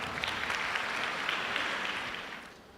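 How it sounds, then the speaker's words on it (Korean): An auditorium audience applauds to welcome a professor on stage at a university essay exam information session. The clapping is dense and steady, then thins and fades near the end, with no voices over it. "여러분 박수로 환영해 주십시오."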